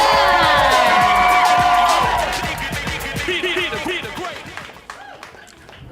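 Audience cheering and whooping for HaSizzle at a live podcast event, loud crowd shouts and applause at first that fade down, with a voice calling out over it.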